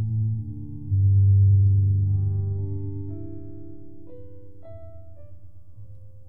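Piano notes processed through Convolution Reverb Pro with a wavetable clip as the impulse ring as smooth, sine-like sustained tones that swell, then step through a few pitches while slowly fading, eerie and echo-like, with no talking.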